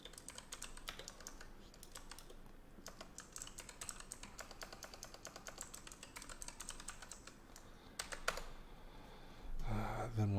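Rapid keystrokes on a computer keyboard clatter steadily at close range during a live coding and debugging session, with short pauses and a louder burst near the end.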